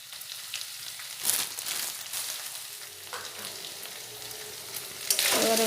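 Chicken for chicken chow mein sizzles steadily in a hot pan with Kashmiri red chilli powder and tasting salt, with scraping stir strokes near the start and a louder burst of sizzling at the end.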